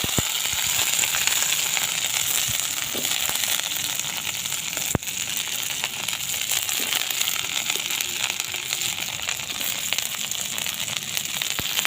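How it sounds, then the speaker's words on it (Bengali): Cauliflower pieces frying in hot oil, reused after potatoes were fried in it, give a steady, loud sizzle with fine crackling that runs the whole time, broken once by a sharp click. "এবার ওই তেলে দিয়ে দেবো ফুলকপি। ফুলকপিগুলো ভেজে নেব।"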